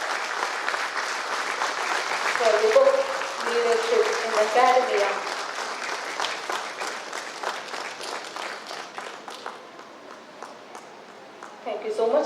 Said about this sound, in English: I request everyone to please give a huge round of applause